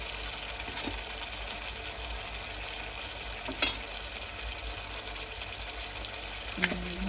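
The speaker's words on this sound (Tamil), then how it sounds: "தக்காளிக்கெல்லாம் வதங்கட்டும்" Tomatoes sautéing in a pan for fish curry: a steady, even frying hiss throughout, with a single brief clink near the middle and a faint tap toward the end, no one talking.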